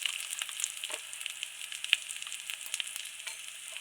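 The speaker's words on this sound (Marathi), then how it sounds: "छान परतून घेऊ कांदा असं लालसर परतून घेऊ" Chopped onion fries in a pan for a Marathi spinach and potato bhaji, browning to a reddish colour. The sizzle is a continuous, close crackle, punctuated by occasional spoon scrapes and small pops.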